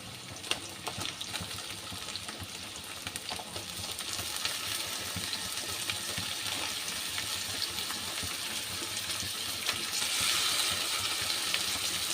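Sliced bitter gourd (karela) fries in a pan with a steady, dense sizzle that holds throughout, swelling slightly louder toward the end, with no talking.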